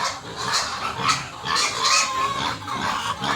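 Farm pigs waiting at feeding time grunt and squeal in a continuous, fairly loud chorus close by, with faint poultry clucks mixed in.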